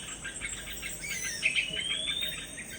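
A pirok-pirok bird calling in a forest, a bright rising whistle-like cry over a steady chirring of insects, clear and fairly close, with no voices.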